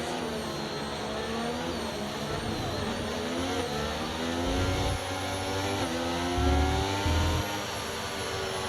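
F1 race cars idle and rev on the starting grid at the Singapore Grand Prix in the F1 23 video game, a dense layered engine drone with rising pitch sweeps and deep throttle blips.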